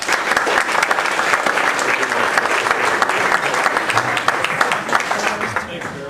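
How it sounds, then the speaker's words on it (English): An audience gives a big round of applause for speaker Chris Rizzo, dense and loud clapping from many hands that runs steadily before tapering at the end. "let's give Chris Rizzo a big round of applause"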